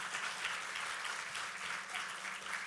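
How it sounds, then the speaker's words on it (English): An audience at an ASEAN summit event applauds in a steady, dense wash of clapping from many hands, heard from a distance at moderate volume throughout. "Another big round of applause"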